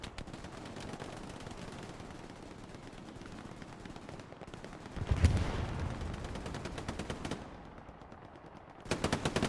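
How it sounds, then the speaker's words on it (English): Sustained automatic machine gun fire in the multiplayer war game Hell Let Loose, dense rapid bursts running almost continuously with a louder swell of shots midway and another burst at the end, no voices. "Logo holding it down with the MG"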